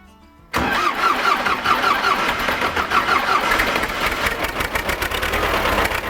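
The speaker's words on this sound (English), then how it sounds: "So yeah, let's get the tractor started." A tractor engine cranks and catches at about half a second, then settles into a steady, loud, close idle that continues to the end with no voices.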